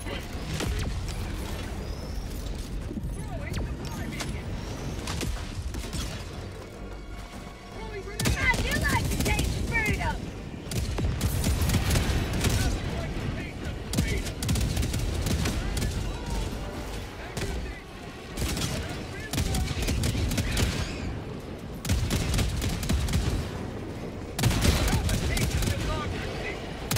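Rapid automatic sentry turret fire from Helldivers 2 crackles in dense bursts through busy battle noise, with a player talking over the combat.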